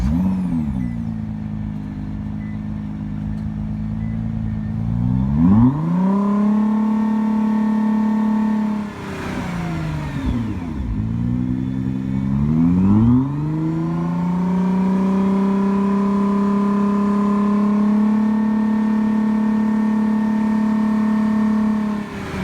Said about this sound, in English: Here's the 2017 startup and rev.